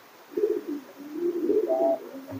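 A domestic pigeon coos in a courtship display, a male driving a female after eggs were removed; low, throaty rolling coos repeat close by in a steady series, with no talk.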